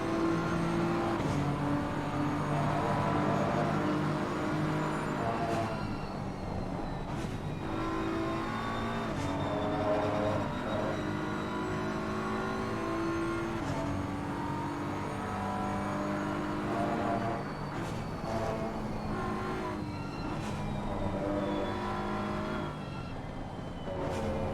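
Race car engine in a sim racing endurance event on a BMW, heard from the helmet cam during a chase: a continuous loud drone with rising and falling revs, gear changes and several sharp shifts, steady throughout.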